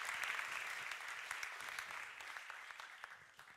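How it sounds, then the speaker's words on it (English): An audience at a moderated panel discussion claps steadily for the panel, a dense, even round of applause lasting a few seconds with no one talking over it. "Can we please applaud our joint declaration declarer, Patrick Monfray, and our panel?"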